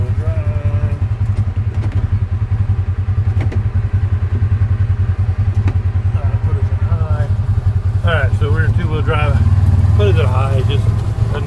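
A four-wheel-drive vehicle rolls along a rough trail on land in Arkansas, its engine droning low and steady with clatter and thumps from the bumpy ground, while people talk over it.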